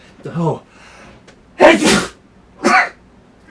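A person sneezes twice in quick succession, loud and close, after cat fur gets up their nose; a brief voiced exclamation comes just before the sneezes.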